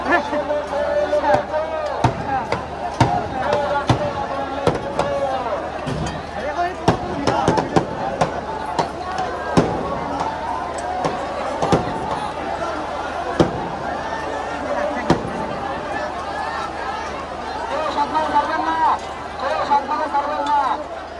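Sharp gunshot cracks ring out repeatedly and irregularly during a street protest in Bogura, loud bangs cutting through constant shouting and crowd chatter.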